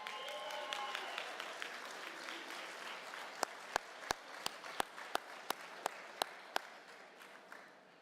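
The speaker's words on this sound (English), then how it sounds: "big round of applause" At a graduation ceremony a crowd applauds in a dense wash of clapping, then a few sharp, evenly spaced loud claps ring out near the microphone as the applause fades.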